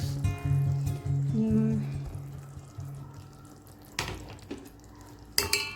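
A spoon stirs thick coconut milk into a Sri Lankan pineapple curry in a pot, making soft scraping and sloshing over a low hum, with two sharp knocks against the pot toward the end.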